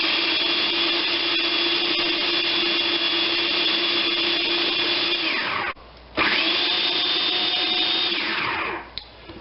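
Blender mixing basil pesto with water, a loud steady motor whine that stops briefly, starts again and then winds down, with no talking.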